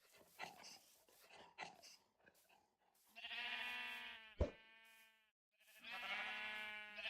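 Sheep on a Minecraft farm bleat in two long, wavering calls, loud and close, preceded by short soft grunting sounds and a sharp click between them.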